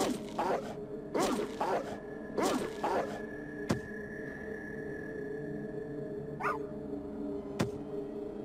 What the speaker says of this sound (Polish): Pies nieźle tłucze.